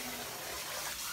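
Tap water runs steadily into a kitchen sink while a child rinses dishes, a continuous broadband splashing and gushing close by, with no talking over it.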